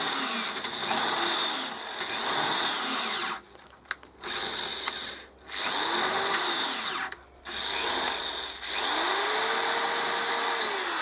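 A power drill whines steadily through metal, pausing briefly a few times as the pitch shifts with load, close and loud throughout.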